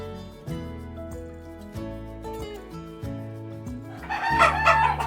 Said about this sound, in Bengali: এই যে গলাচিলা মুরগি করতেছেন